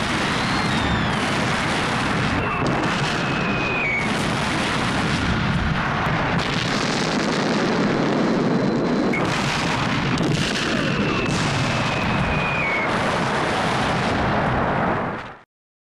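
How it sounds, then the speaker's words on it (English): Bombs from a German aircraft air raid in a war film explode in heavy, continuous booming blasts, one after another, with rumbling debris filling the whole stretch before it cuts off abruptly. "The area is then bombarded by air raids, with several big explosions taking place."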